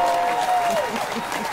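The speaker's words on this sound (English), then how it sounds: "please, a round of applause for Charlean Carmon" A brief burst of audience applause greets a guest on a talk show, a steady wash of clapping with a thin, sustained whistle-like tone riding over its first half.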